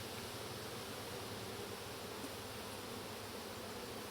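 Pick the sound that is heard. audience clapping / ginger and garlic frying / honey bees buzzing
honey bees buzzing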